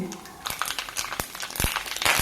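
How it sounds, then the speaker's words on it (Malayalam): A spoonful of mustard seeds spluttering in hot coconut oil: rapid, irregular crackles and sharp pops, close and moderately loud, growing denser toward the end. "1 സ്പൂൺ കടുക് ഇട്ട് കൊടുത്തിട്ടുണ്ട്."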